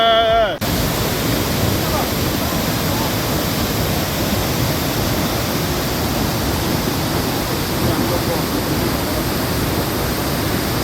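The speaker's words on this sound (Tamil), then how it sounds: "அவங்க நம்மளை கூப்பிட்டு வந்த பிளேஸ் வந்து இந்த ரிப்பல் வாட்டர் ஃபால்ஸ்" Monsoon rush of Ripple Waterfalls in Munnar, a loud, steady broadband roar of falling water that fills the whole stretch without letup after a brief opening moment.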